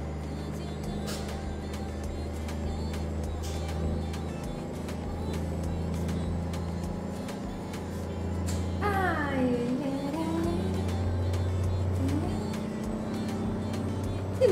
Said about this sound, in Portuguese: Tá muito alto o barulho do caminhão